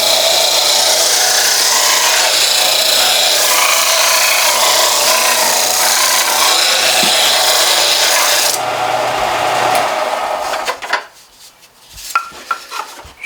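Sandpaper rubs against a wooden Shaker box, a loud, steady, close rasping scrape that runs for about ten seconds before stopping, followed by a few light taps and handling noises.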